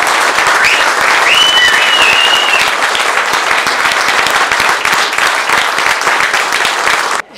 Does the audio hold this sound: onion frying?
no